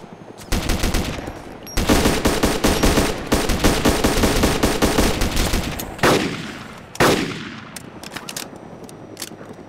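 Rapid automatic gunfire in DayZ, long loud bursts of close shots in quick rhythm, broken by short pauses, ending with a few sharp single shots and echoing cracks.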